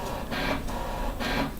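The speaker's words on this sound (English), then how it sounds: "that's my printer" A printer runs nearby with a steady mechanical whir, rising twice into louder rhythmic feeding passes.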